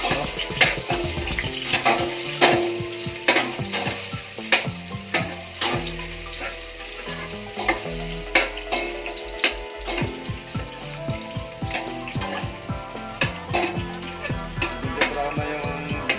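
Garlic and ginger sautéing in a pan for salmon sinigang, with a steady loud sizzle broken by frequent scraping and stirring clatter of a utensil against the pan, heard up close with no talking.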